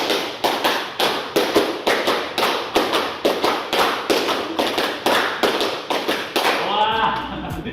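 A group of school participants claps in unison, sharp synchronized hand claps in a counted rhythm, around twenty crisp beats grouped in bursts, loud and close, ending with a brief trail of voices.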